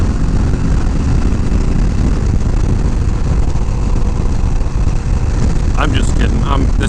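Harley-Davidson Milwaukee-Eight 107 motorcycle cruising at steady speed, a continuous engine drone buried in loud, constant wind rush across the mic, with brief voice-like sounds near the end.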